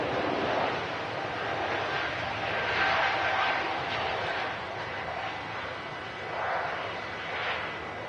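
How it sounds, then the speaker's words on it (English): A KLM airliner departs Manchester Airport for Schiphol, its broad, wind-buffeted jet roar swelling and easing at a distance. "KLM on departure back to Schiphol"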